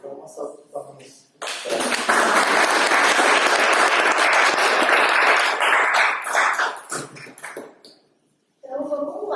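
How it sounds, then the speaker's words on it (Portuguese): An audience at a talk on digital business bursts into loud, sustained applause that swells and then fades, with a speaker's voice briefly before and after it. "uma salva de palmas"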